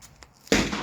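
A single sharp, loud crack from a Thompson Center Contender .44 Magnum pistol fired at a range comes after a moment of quiet, with a short ringing decay.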